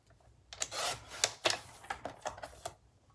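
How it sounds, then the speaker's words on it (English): A paper trimmer cuts down cardstock for a shaker card, giving a series of short scraping, rasping strokes close by in an irregular rhythm, fairly quiet. "I'm just gonna use my trimmer real quick."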